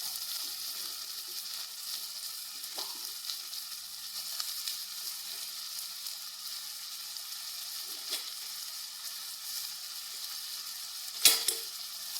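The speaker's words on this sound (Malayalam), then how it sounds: "ഇനി നമുക്ക് ഉള്ളിയും തക്കാളിയും എല്ലാം ഇട്ട് കൊടുക്കാം" Onions and tomatoes sizzle steadily in a pan for chicken curry, a continuous close frying hiss with a few faint stirring scrapes and one sharp clink near the end, no talking.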